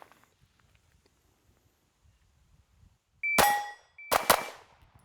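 Two sharp pistol shot bursts ring out on steel targets after a quiet start, each with a bright metallic clang and ringing tail, one at about the three-second mark and a second closely spaced pair shortly after, loud and close.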